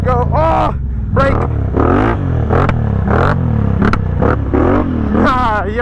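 A four-wheeler ATV engine revs up and down in loud, close bursts while the rider pulls a wheelie, the pitch rising and falling repeatedly, with voices over it.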